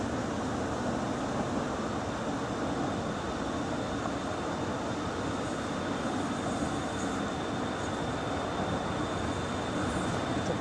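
Croydon Tramlink tram near the line, a steady continuous rumble with a faint high whine, heard alone without voices.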